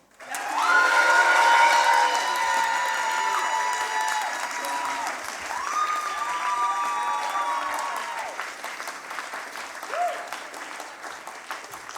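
A science slam audience at Berlin Science Week bursts into loud applause mixed with cheers and whistles, swelling at first and then settling into steady clapping that lasts throughout.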